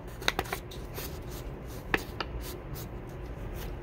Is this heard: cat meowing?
no